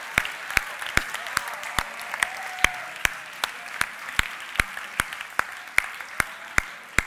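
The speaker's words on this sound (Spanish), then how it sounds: "¡Fuerte aplauso para Eduardo Punset!" A TV studio audience claps in a steady, evenly spaced rhythm, sharp distinct claps about twice a second over a low background murmur.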